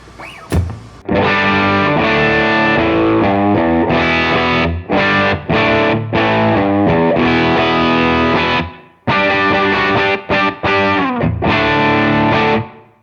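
Electric guitar through an HX Stomp amp patch with a clean boost pushed into the front, loud driven chords and riffs ringing in long phrases with short gaps, played alone.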